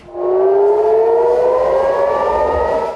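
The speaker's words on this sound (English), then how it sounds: "In Israel, sirens wail as missiles stream across the sky" Air raid sirens in Israel wail during a missile attack, a loud steady tone rising slowly in pitch, sounding alone and continuously with no voices.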